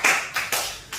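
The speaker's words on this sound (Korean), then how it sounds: "박수합시다." A church congregation applauds during a Sunday sermon, a short burst of several crisp overlapping claps heard up close, no speech.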